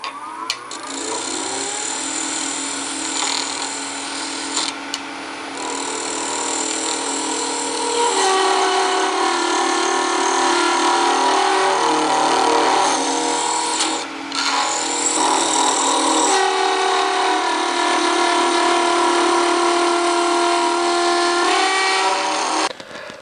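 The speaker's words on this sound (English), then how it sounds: "This little spindle gouge is working really well" A 3/8 inch spindle gouge cutting a spinning aluminum bar on a lathe, giving a steady, loud metallic scraping whine with a hum beneath it that runs almost continuously, with a few brief dips where the cut pauses.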